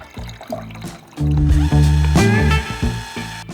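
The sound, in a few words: pouring film developer back into its container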